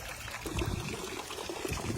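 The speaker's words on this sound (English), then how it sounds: "I just hit this to the off position and let the water drain out" Water trickling and dribbling out of a handheld pool vacuum as it drains, a steady, fairly quiet pour with no talk.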